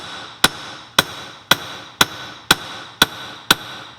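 A texture hammer strikes a copper sheet eight times in an even, steady rhythm, each blow a sharp ringing tap close by.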